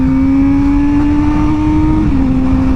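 A Suzuki GSX-R motorcycle engine drones steadily while being ridden, loud and close, holding a near-constant pitch that drops slightly toward the end, with wind noise underneath and no talking.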